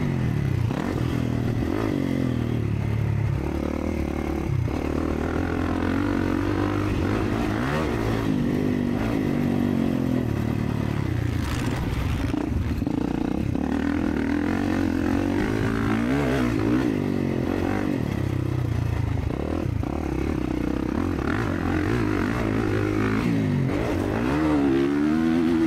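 A 2024 Kawasaki KX450 four-stroke motocross bike ridden on a dusty Stillwater MX track, its engine droning and revving steadily throughout with shifting pitch as it accelerates and backs off, close and loud with no talking.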